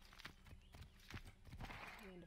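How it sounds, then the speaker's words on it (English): Horse hooves clip-clop at a walking pace in the video game Assassin's Creed 3, a steady run of light thuds close by, with occasional whinny-like tones near the end over game ambience. "There we go, there's my trusty horse."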